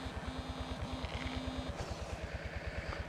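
A water pump engine throbs with a steady, rapid low chug as it draws water from a canal beside a rural roadside plot, running continuously at moderate distance with no speech.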